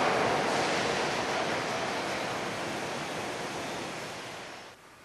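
A fan blasts strong wind onto hair washed with Dove shampoo, making a loud, steady broadband rush that holds evenly and then drops off just before the end.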